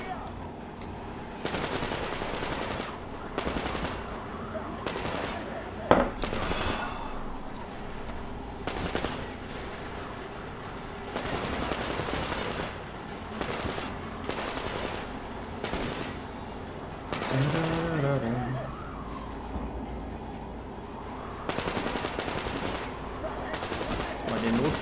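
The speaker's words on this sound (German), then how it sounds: "Die schießen gerade alle auf Anna" Gunfire rattles through a Metro Exodus firefight as enemies shoot at Anna, with repeated bursts and scattered shots of varying loudness across the scene and occasional voices mixed in.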